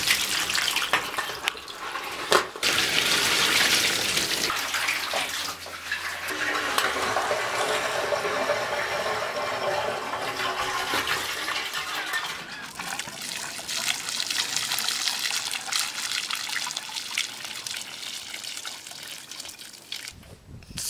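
Water rushes steadily through a PVC watering system in a rabbitry during a test run. The flow is loud and continuous for about twenty seconds, with a few abrupt bumps and changes in tone and no talking.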